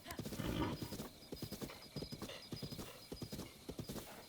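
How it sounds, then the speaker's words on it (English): A horse trotting in the video game Zelda: Breath of the Wild, hooves clip-clopping in a quick steady rhythm at close range, with a brief snort or whinny near the start. "Come on, horse."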